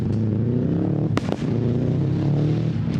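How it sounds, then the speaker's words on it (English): A Subaru rally car at a Goodwood rally super special, its engine droning steadily, with a sharp pop and crackle from the turbo partway through. "Popping and banging of the turbo"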